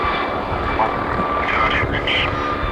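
NOTAR helicopter at the Farnborough Air Show, manoeuvring with a steady, loud engine roar and whine that stays constant and close throughout.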